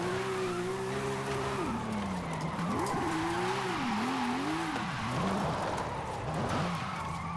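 A classic Porsche in Forza Horizon 5 slides at length with a long, wavering tire squeal over the engine's steady drone, loud and continuous, with the pitch bending as the car drifts.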